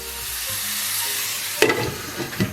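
Tomatoes and green chili peppers hit a hot wok and are stir-fried, a steady sizzle swelling into a louder burst of frying and scraping near the end.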